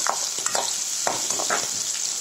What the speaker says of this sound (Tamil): பாருங்க சின்ன வெங்காயம் நல்லா வதங்கட்டும்.